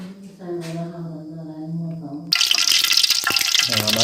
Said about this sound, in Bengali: এখন আমি তেল ঢেলে দেবো এখানে